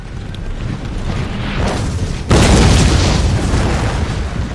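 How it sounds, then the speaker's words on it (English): Mortar fire in an Empire: Total War multiplayer battle, with rumbling distant blasts that jump to a heavier, louder boom midway, then a sustained roar of battle noise. "Mortar fire coming into the tree line here."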